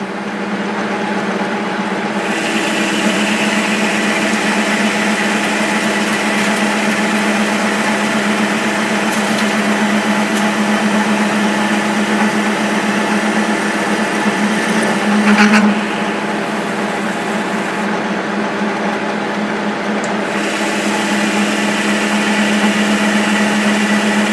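Metal lathe turning a flat pulley at 750 rpm, a loud, steady, humming motor whine with a constant buzzing tone and a brief bump midway, continuous and close with no talk.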